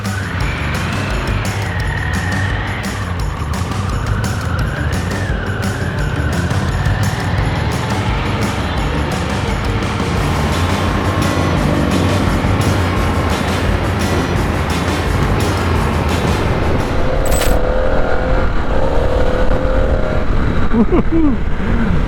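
A 2023 Harley-Davidson Pan America 1250 Special motorcycle engine while riding, a steady loud drone with gradual rising and falling revs, wind rushing throughout, and a voice talking faintly under the noise at moments.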